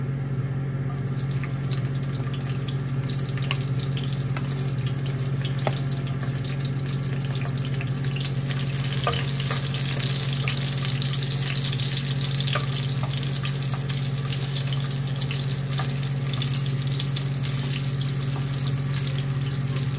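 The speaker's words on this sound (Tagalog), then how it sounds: "Ilagay na natin ang bawang" Garlic frying in a pan: steady, dense sizzle and hiss running throughout, with a constant low hum underneath and occasional faint clicks, no talking.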